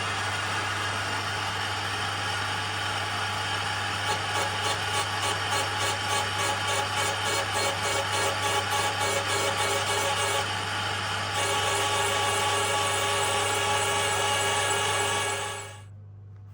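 Valve seat cutter cutting a 45-degree seat into a Ducati 860 cylinder head, a loud continuous grinding drone with a rhythmic scraping pulse that shifts partway through and stops abruptly near the end.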